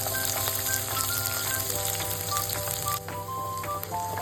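Green chillies and chopped onion frying in hot oil give a loud, steady sizzle and crackle, close up, with faint tonal hum in the background and a slight drop in intensity partway through.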